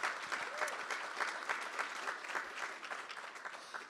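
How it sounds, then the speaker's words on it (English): Sustained audience applause at a startup and venture-capital talk, dense steady clapping from a crowd throughout with no pause. "please give a big round of applause to her and Puya"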